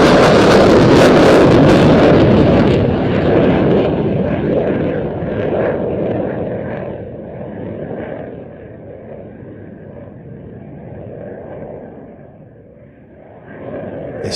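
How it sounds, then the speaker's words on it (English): An RAF Eurofighter Typhoon Tranche 2 fighter jet from 29 Squadron flying a solo display at Roskilde Airshow, a loud broad roar that fades steadily as the jet passes and recedes, with some wind buffeting on the microphone. "The Royal Air Force also dispatched its Typhoon solo display from 29 Squadron, with Squadron Leader Nathan Scheuer at the"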